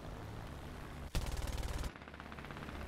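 Enemy bomber's rear gunner in War Thunder opens up with a machine gun: one loud rapid burst of about a dozen rounds lasting under a second, over steady engine drone.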